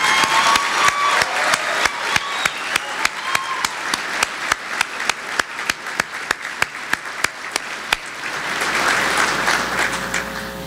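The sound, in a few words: audience applause for the Sailors of the Year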